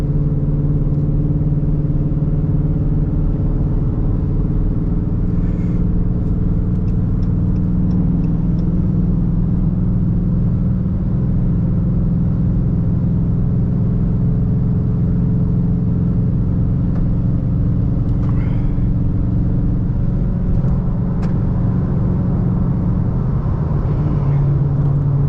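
A Dodge Challenger with a 5.7L V8 idles steadily through its exhaust for the whole stretch, a deep, even rumble that stays close and fairly loud with only slight swells and no talking.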